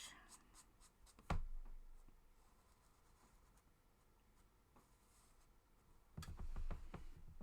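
Pens scratch and tap across paper during a live drawing session, with bursts of quick strokes at the start and near the end and quieter scribbling in between, close and fairly soft.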